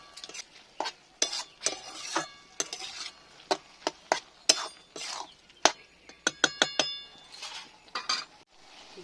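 A vegetarian Bengali cabbage curry (bandhakopi jhal) is stirred in a pan with irregular bursts of scraping, knocking and metallic clinks from the spoon over a soft background sizzle.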